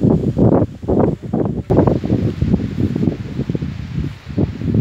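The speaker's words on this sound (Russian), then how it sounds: "Ветер кошмар, похолодало." Strong gusty wind buffets the microphone in repeated loud bursts, roaring and rumbling outdoors at a dacha garden with no other clear sounds.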